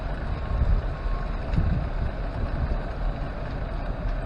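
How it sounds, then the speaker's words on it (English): Distant road traffic heard from a metro park bike trail beside a river valley: a low, steady rumble with faint passing surges, mixed with wind noise and no voices. "You never quite get away from the traffic noise"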